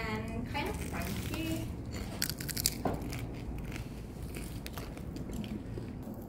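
Crunchy bites and chewing on pisang goreng, sweet fried banana, with sharp crisp crackles over steady background chatter and voices.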